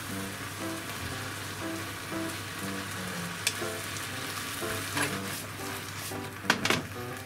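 Chicken breast stir-frying with onion, garlic, green peppers and paprika hisses in a steady, close sizzle, with a few sharp scraping clatters of stirring toward the end.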